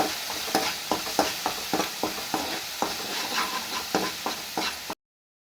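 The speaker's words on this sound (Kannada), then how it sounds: "ಮಿಕ್ಸ್ ಮಾಡ್ಕೊಂಡು ಎಣ್ಣೆ ಸಪ್ರೇಟ್ ಆಗೋವರೆಗೂ ಮಸಾಲೆನ ಚೆನ್ನಾಗಿ ಬೇಯಿಸ್ಕೊತಾ ಇದ್ದೀನಿ" Masala frying in oil in a pan, stirred with regular scraping strokes about twice a second over a continuous sizzle, close and clear with no talking.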